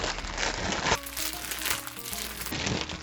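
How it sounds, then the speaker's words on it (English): A plastic bag crinkles and rustles up close in a steady stretch, with a louder burst of crumpling partway through, used in place of a glove to mix a Thai glass noodle salad. "I cannot find the glove, so I will use the plastic bag instead."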